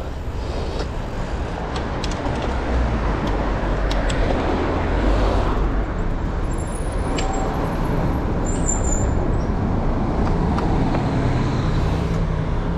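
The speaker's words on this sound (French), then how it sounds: "On roule carrément sur le trottoir." A car rolls along a sidewalk past a street lined with bars, heard as a continuous close engine and road rumble with surrounding traffic noise and a few faint higher tones.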